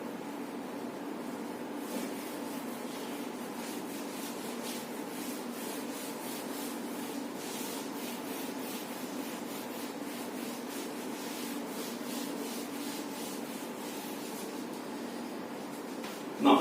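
Steady, continuous rubbing of an eraser or duster across a classroom board during an optics lecture, a dense scratchy wash that keeps on with no pauses and ends in a brief knock.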